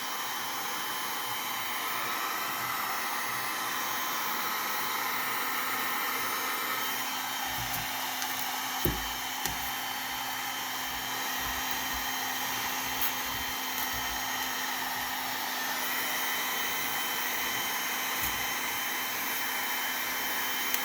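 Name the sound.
heat gun melting Sno-Seal wax into leather gloves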